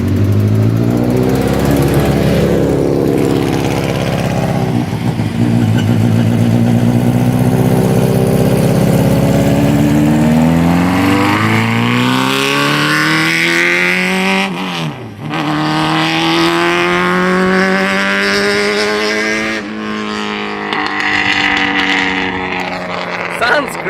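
A van fitted with a swapped-in motorbike engine, previously flooded, runs loudly and revs repeatedly, its pitch climbing, dropping sharply and rising again, with voices audible over the engine.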